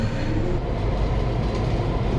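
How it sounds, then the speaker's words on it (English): Inside a moving Singapore LRT train running from Little India towards Punggol Coast, a loud, steady rumble of wheels and carriage noise fills the cabin with no voices. "just boarded the train on Little India to Punggol Coast"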